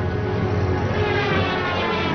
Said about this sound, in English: But Nazi planes bomb Allied positions daily.